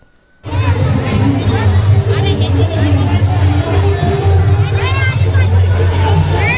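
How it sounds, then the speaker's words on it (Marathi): A huge crowd of pilgrims at the Pandharpur wari, walking with Sant Dnyaneshwar's palkhi from Alandi to Pune, fills the air with loud, dense babble and chatter that bursts in after a brief quiet moment and carries on. "किती प्रचंड गर्दी आहे आणि उत्साह आहे हे तुम्ही पाहू शकता"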